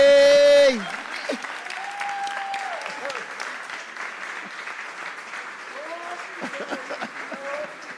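Audience applause for two people after an everyday dialogue performance, a steady burst of clapping from a crowd just after a brief tone, with a voice and whistles briefly heard over it.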